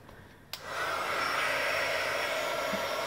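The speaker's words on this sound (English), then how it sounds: "I'm going to heat up my gun a little bit and then melt this." Heat gun switching on and blowing steadily at close range to melt embossing powder on a fall greeting card, a sharp click followed by a constant loud whooshing roar that holds without pause.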